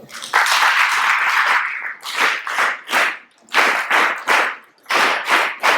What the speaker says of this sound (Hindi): एक बार के लिए ताली बजा दो।